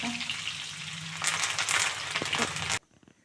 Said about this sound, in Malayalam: അപ്പോൾ നമ്മുടെ വെളുത്തുള്ളി കാഞ്ഞു വരുന്ന സമയത്ത് നമ്മൾ കറിവേപ്പിലയും കൂടി ഇട്ടെടുക്കാൻ